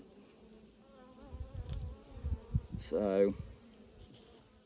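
Bees buzz faintly around an orange hive at a farm, a low, soft hum under a person's brief talk and rustling, with one louder buzz passing close near the end.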